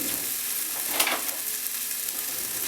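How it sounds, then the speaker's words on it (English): Onion and spices fry in a pan for a spinach, pumpkin, ginger and tofu curry, a steady close hiss with a brief scrape as they are stirred, and no talking. "So while the onion is just going a little bit soft, and we're going to stir the spices through."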